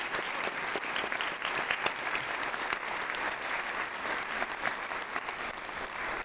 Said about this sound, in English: Could you join me, please, in giving a big round of applause to Kaladi Brothers for underwriting this debate?